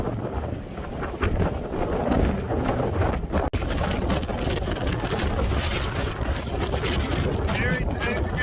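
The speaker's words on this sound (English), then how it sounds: "the wind that's coming through between those two peaks is just incredible." Strong wind gusting between two mountain peaks on Corsica's GR20 hiking trail roars loudly and continuously across the microphone, a dense buffeting rush that barely lets up, with some talk partly buried beneath it.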